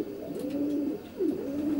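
Racing pigeon cocks in a section of a 32-foot loft give soft, low rolling coos, two close phrases with a brief pause between, no talk.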